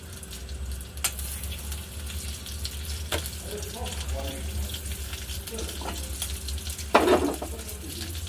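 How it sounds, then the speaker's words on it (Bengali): White oil and a little butter heating in a kadai, a low steady sizzle with a few sharp clicks and a louder clatter near the end, with faint background sounds. "এবার আমি কড়ার মধ্যে অল্প একটু সাদা তেল দিয়ে দিলাম, আর দিয়ে দিচ্ছি একটু বাটার"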